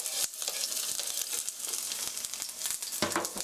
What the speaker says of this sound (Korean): 이렇게 기울이셔서 튀기듯이 구워주세요.